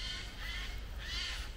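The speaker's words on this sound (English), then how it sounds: "I think that's some sort of bird of prey up there, making all that noise." A large bird calls overhead in a garden, two harsh, raspy caws spaced about half a second apart, moderately near and clear over quiet background.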